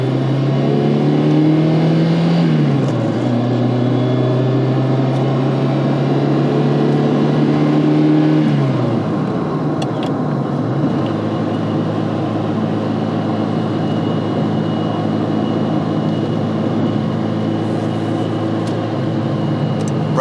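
A 1989 Ferrari 328 GTB engine pulls hard through the gears, its loud in-cabin drone rising in pitch, dropping at each shift around three and nine seconds, then settling into a steady cruise, with no talk.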